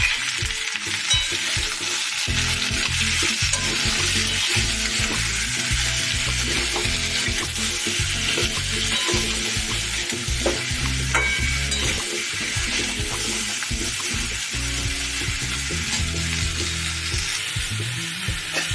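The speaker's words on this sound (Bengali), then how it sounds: "কুমড়োগুলো দিয়েও আমি বেশ ভালো করে ভেজে নেব।" Pumpkin and potato pieces fry in oil in a wok with turmeric and salt, a loud steady sizzle broken by repeated scraping and stirring clatter, with no talking.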